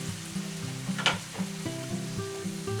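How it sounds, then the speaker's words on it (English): Chicken with Italian seasoning and garlic, about three-quarters cooked, sizzles steadily in a pan, a loud close frying hiss with brief pops and stirring clinks, no speech. "So we've got our chicken that's 3/4 of the way cooked, with all the Italian seasoning and garlic."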